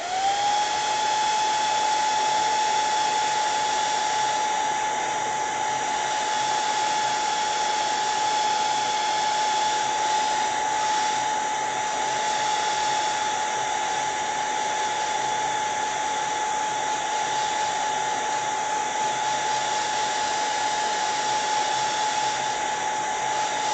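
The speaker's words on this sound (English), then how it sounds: "I'm going to speed up the process by using a hairdryer." A hairdryer blows steadily at close range for the full length, drying a watercolour line-and-wash beach landscape painting, with a constant whine and no talk.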